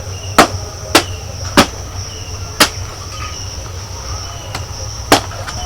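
A knife chops into a young palm fruit to cut it open for its soft kernels, giving sharp, distinct strikes at an uneven pace over a steady background insect chirping.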